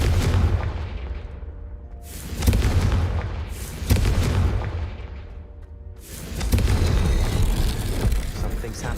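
Confringo fire spell blasts in Hogwarts Legacy, several heavy booming impacts a couple of seconds apart, each bursting loud then rumbling away, over a dense game backdrop.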